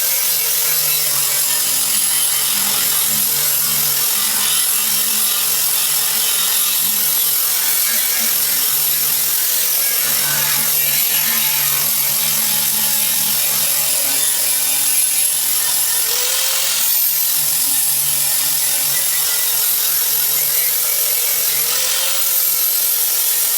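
A 4.5 inch 60-grit material remover disc on an angle grinder working across a walkway surface, a loud steady high-pitched grinding whine held nearly the whole time, with small dips as the disc shifts its contact and no voices.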